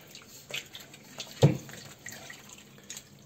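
Homemade village butter being washed in water by hand, giving soft sloshing and dripping splashes with one sharper splash in the middle, in an otherwise quiet room.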